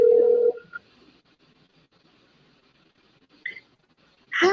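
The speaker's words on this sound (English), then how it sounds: "Let's see what she says when we call her." A short burst of phone dialing tones at the start, followed by near-silence and a couple of brief electronic chirps as the call connects, with no talk.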